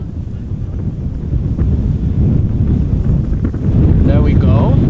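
Strong crosswind buffets an outdoor microphone at Amsterdam Schiphol Airport, a loud continuous roar with gusts that swell toward the end, while a voice talks over it.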